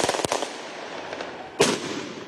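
Fireworks rockets go off at a distance at a street protest in São Paulo: a sharp bang, then a second loud burst a moment later, with faint crackling in between.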